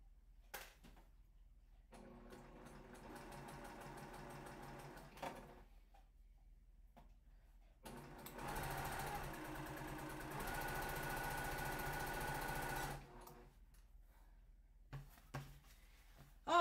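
A sewing machine runs in two stretches during a live sewing session, its steady mechanical whir rising for a few seconds, pausing, then returning louder and denser, with brief clicks and quiet gaps between runs.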